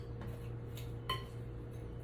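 Spoon stirring smoked sausage, red potatoes and Old Bay seasoning in a pan, a few soft metallic scrapes and one sharper clink over a quiet steady background hum.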